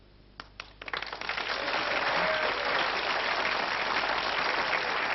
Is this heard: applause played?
yes